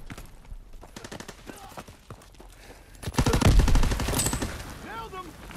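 Suppressing gunfire in Call of Duty WW2 team deathmatch, a quiet stretch of scattered distant shots followed by a louder close burst of rapid automatic fire near the end.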